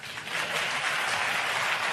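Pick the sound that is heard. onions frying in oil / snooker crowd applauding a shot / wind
snooker crowd applauding a shot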